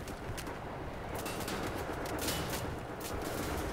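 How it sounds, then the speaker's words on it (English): Rapid video game gunfire from Wolfenstein: The New Order, a dense run of overlapping shots that stays loud and steady throughout with no talk. "Are you shooting at me, bro?"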